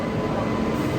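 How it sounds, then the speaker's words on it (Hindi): A Rajdhani Express hauled by a WAP-7 electric locomotive arriving at a railway platform, a steady, loud broadband rumble and rolling roar that holds constant throughout, with no distinct horn or voices. "वैप 7 के साथ अपनी राजधानी एक्सप्रेस पहुंच रही है यहाँ पे"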